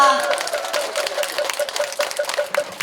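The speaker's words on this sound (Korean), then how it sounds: "백성윤 논산시장님께 감사의 박수 한 번 더 부탁드립니다" Audience applause of thanks for the mayor at a Buddha's Birthday event at Gwanchoksa Temple, brisk clapping close by over a steady sustained tone, with voices faintly present.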